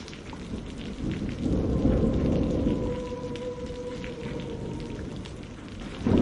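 Steady rain hisses under a long, low rumble of thunder that swells and fades, with a fresh surge of rain noise at the very end.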